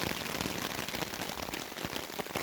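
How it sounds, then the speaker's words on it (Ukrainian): Heavy rain pours onto a tent tarp and hammock, a dense, continuous hiss of drops drumming on fabric without pause. "Але дощ реально сильний."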